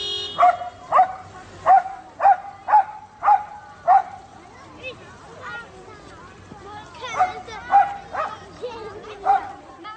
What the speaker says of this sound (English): This dog is a local celebrity in Georgia because it always barks at traffic when children need to cross the